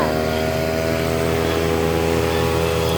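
A lawn mower cutting grass, its engine holding a steady, fairly loud drone with a constant pitch throughout, with no voices.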